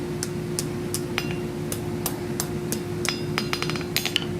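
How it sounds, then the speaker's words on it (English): A hand hammer strikes hot metal while a rosette finial scroll is forged, bending the stock tight at the rosette. Sharp, close ringing blows land in an irregular rhythm and quicken toward the end, over a steady low hum. "we just want to focus on hammering real tight, getting that material to bend right at the rosette."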